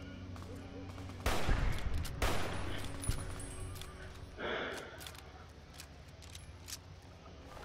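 Gunfire in the game Fallout New Vegas: a couple of loud sharp shots burst out over a low background hum, followed by scattered fainter clicks and thuds.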